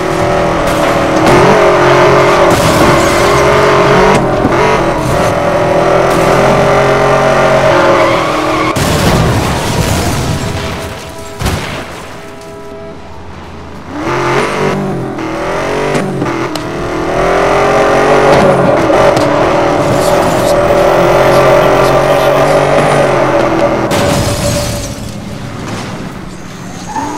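A car engine roars and revs through a race in Need for Speed Most Wanted, with loud acceleration, gear shifts, tire skids and impact booms, briefly dipping before the engine drone returns.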